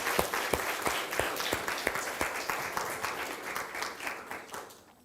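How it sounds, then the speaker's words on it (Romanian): An audience at a journalism seminar gives a sustained round of applause for a departed guest, dense clapping throughout that fades out toward the end. "Aplauze pentru Glenn"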